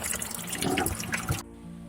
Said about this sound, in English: Now I filled the reservoir with 5 gallons of water.